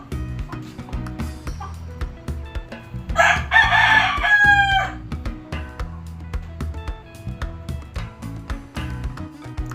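A native rooster crows once in a burst mid-clip, loud and near, over steady rhythmic background music or clatter.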